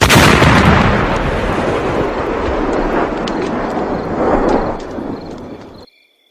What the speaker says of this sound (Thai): กับระเบิดอันทรงอนุภาพหลายแรงนั้น ก็ระเบิดสนั่นครึ่งขังหนึ่งและขังเดียว